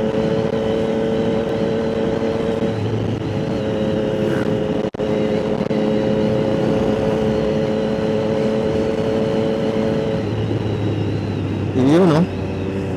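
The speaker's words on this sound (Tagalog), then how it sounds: "try lang natin i-enjoy ang tunog ng ating" A 2025 Triumph Trident 660 motorcycle with an aftermarket exhaust and quick shifter drones steadily while riding, with a loud, sustained engine tone, a brief shift-like dip, and a short rev near the end.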